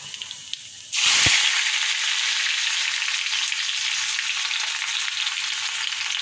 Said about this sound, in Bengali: তেল গরম হয়ে গেছে, এই যে শুকনো লঙ্কা কালো জিরে ফোড়ন দিয়ে দিচ্ছি